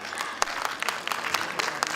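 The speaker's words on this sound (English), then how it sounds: "A big round of applause to all the sponsors," Applause from a conference audience for the event's sponsors, a dense patter of many hands clapping steadily throughout, fairly close and full.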